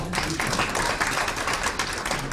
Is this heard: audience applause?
yes